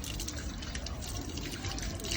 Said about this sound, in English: We're going to try and open the tap.